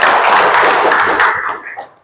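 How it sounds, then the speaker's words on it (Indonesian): Students in a classroom clapping for a group, a short burst of dense, fairly loud hand claps that fades out after about a second and a half. "Tepuk tangan untuk mereka dulu"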